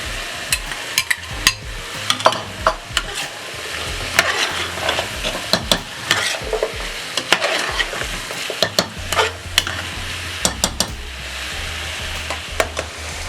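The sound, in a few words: carrots added to sizzling chicken curry, stirring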